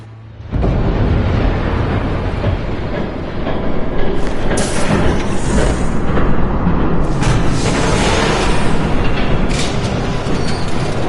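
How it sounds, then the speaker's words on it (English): A train approaching in the Batman Telltale Series video game, a loud continuous heavy rumble that swells and grows harsher as it nears, with no talking. "There's a train coming."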